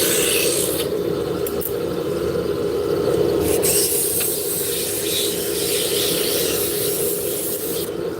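A wood lathe spins a wooden drop spindle as it coasts after being switched off, producing a steady whirring, rubbing hum with occasional light ticks, continuous and close.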